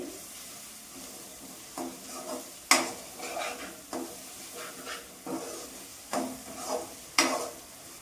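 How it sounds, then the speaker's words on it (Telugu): Ginger garlic paste fries softly in a pan while a spoon stirs and scrapes it, producing a gentle sizzle broken by periodic clinks and scraping strokes. "అల్లం వెల్లుల్లి పేస్ట్ పచ్చివాసన పోయేదాకా వేసుకోవాలమ్మా"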